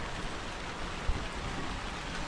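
A sudden rain falls as a faint, even hiss of steady noise throughout, with one small soft thump midway and no voices.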